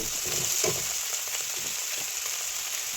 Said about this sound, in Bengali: তো আমি তেলে লঙ্কা এবং ফোড়ন, সেই সঙ্গে কাঁচা পেঁয়াজ কুচি, টমেটো কুচি সব দিয়ে সুন্দর করে এটাকে আমি একটু মিশিয়ে নিচ্ছি, নেড়ে নিচ্ছি